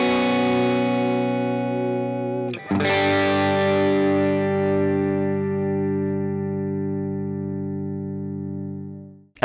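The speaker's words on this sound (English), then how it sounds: "you can get that clean on the verge of breakup sort of sound quite easily with it" Electric guitar through a Headrush MX5 set clean on the verge of breakup, a sustained chord with a lightly gritty edge, re-struck once near the start and then left to ring and slowly fade, loud and alone.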